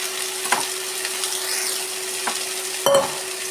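Cooked elephant foot yam is stir-fried in a pan for a Kerala-style chena upperi, giving a steady, close sizzle broken by a few sharp clinks of the stirring spoon.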